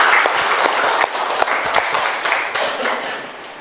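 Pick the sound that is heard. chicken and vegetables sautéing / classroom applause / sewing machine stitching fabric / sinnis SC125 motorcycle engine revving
classroom applause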